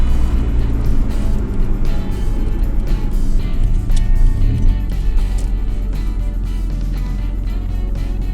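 An old Japanese sports car that sat for 24 years runs while driving, a rough, loud, rumbling engine drone with rattly bursts, heard close throughout without talk.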